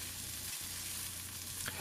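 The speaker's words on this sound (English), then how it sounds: "I'm going to switch to use a wok spatula to finish stir-frying the chicken." Steady sizzling of chicken frying in a wok, with a brief scrape of a spatula stirring near the end; no voices.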